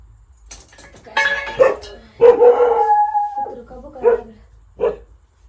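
A dog barks and howls in several drawn-out bursts, close and loud, separated by short pauses.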